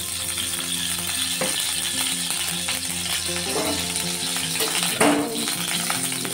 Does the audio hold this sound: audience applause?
no